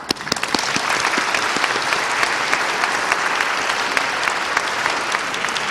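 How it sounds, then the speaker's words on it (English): Audience at a Catholic talk on religious freedom bursts into steady applause, dense hand clapping that holds loud and even for several seconds without voices. "So let's give her a hand clap."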